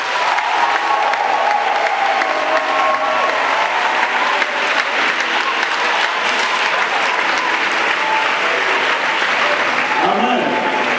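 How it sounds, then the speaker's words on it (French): A church congregation applauds during a worship service, steady dense clapping from many hands sustained throughout, with crowd voices mixed in beneath the applause. "Il faut acclamer."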